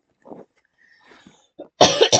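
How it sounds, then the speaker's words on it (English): Several human coughs, a couple of short muffled ones early on and then a loud, harsh burst of coughing near the end, close to the mic with no talking. "And here we go with the coughing again."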